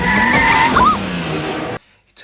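Car chase skid in an Indiana Jones film: a loud, close screech of tires with a revving engine, ending abruptly in near silence.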